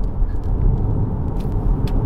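Porsche Macan engine accelerating on a country road, a deep low rumble heard from inside the car that swells steadily over about two seconds.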